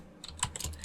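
A few quiet, quick keystrokes on a computer keyboard, typed close by as a terminal command is entered. The burst is brief and soft.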